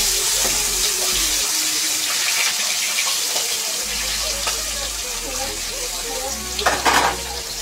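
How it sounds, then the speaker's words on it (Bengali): Hilsa fish frying in a pan hisses in a continuous, fairly loud sizzle, with occasional stirring knocks and a brief busier burst of spattering toward the end. "আর এখন রান্না করছি ইলিশ মাছ।"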